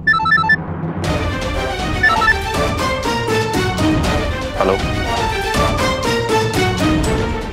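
A telephone rings at home with a steady repeating electronic ringtone melody that plays loudly and continuously throughout, with a few faint high chimes at the very start.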